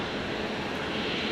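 Steady broadband engine roar from an Emirates Airbus A380 moving into position at Brisbane airport, a continuous even drone heard from a distance with no pauses.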